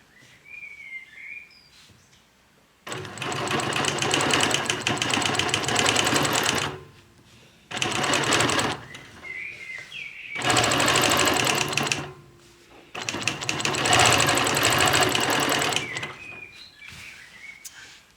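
A sewing machine quilting a Petunia ruler block runs in three long bursts of steady whirring stitching, broken by short pauses, with faint chirps between runs.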